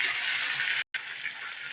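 Cut potatoes drop into hot oil with mustard seeds and sizzle in a loud, continuous hiss. The hiss breaks off for a split second, then carries on steadily.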